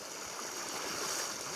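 Water gushes from a newly drilled borewell on a farm as a loud, steady, close rushing flow that continues without a break.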